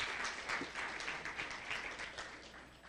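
A church congregation applauds in praise during a Spanish-language worship service, steady broadband clapping sustained for about three seconds, moderately loud and fairly even with no speech over it.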